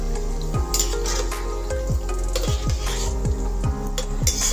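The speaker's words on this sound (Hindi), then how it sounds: "अब मैं देखिए ये किशमिश ली हूँ 2 चम्मच बड़े चम्मच से, तो इन्हें भी फ्राई कर लेती हूँ फटाफट" Raisins fried quickly in hot oil, a steady sizzle with repeated scraping and stirring of a spoon against the pan, close and continuous, with no talking.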